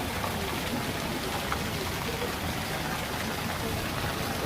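Heavy rain pours down in Rurka Kalan, Punjab, a dense, even hiss of drops hitting the ground and standing water that continues without a break.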